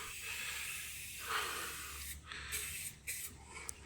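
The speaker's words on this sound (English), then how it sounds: "I'm just kind of going to spray some silicone down to try to slow the rusting." Silicone is sprayed onto a Lincoln welder in a few short, faint hissing bursts close by, separated by quiet gaps against a low background hum.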